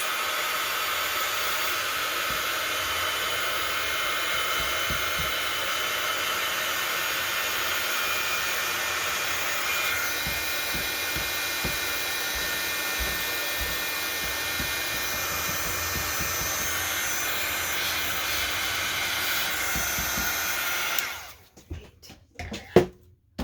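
A hair dryer blows with a loud, steady roar for about twenty seconds, then cuts off abruptly, leaving a few faint handling clicks.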